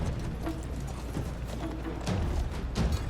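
Horse hooves gallop in the Conqueror's Blade video game, a quick, close clip-clop pattern over a steady background of battle noise.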